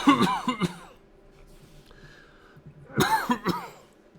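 A burst of harsh, hacking coughs, then a quiet pause before another rough round of coughing and throat clearing, up close.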